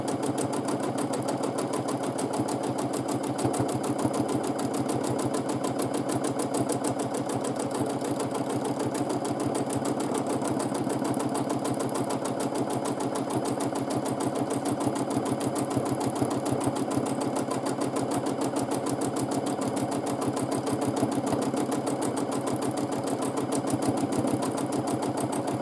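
A sewing machine running continuously for free motion quilting of arch-based designs, a steady close mechanical whir and rapid needle chatter that holds an even pace throughout with no talk.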